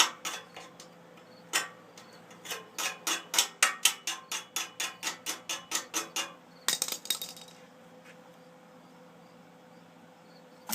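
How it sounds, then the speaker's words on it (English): A hammer chips flux slag off a weld on a homemade ATV trailer, striking in a rapid, regular series of sharp metallic taps that swells and then stops, followed by a few scattered knocks. "Chip off some of this flux."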